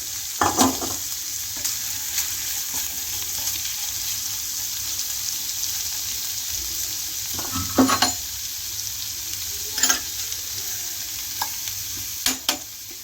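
Spicy tawa boti, a meat dish, sizzles on a griddle with fresh coriander in a constant hiss, broken by a few sharp clinks and scrapes of the spatula as it is stirred.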